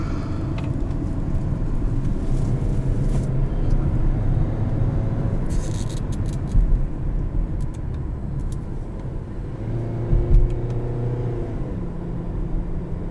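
Cabin view of a 2021 Kia Sportage S Nightfall Edition with a 6-speed automatic driving along, steady engine drone and road rumble rising and falling as it accelerates and shifts, with a few brief clicks and knocks.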